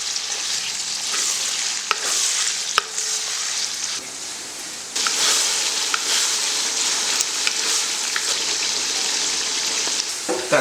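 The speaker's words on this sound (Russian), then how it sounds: "Я прожаривал мясо до золотистой корочки." Meat for plov browning in hot oil until golden, a steady loud sizzle and frying hiss with repeated scraping and stirring clatter throughout, growing denser and louder midway.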